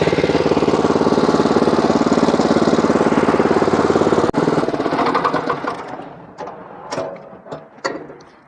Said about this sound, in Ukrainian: І мотоблок так само починає їхати і обертається вал відбору потужності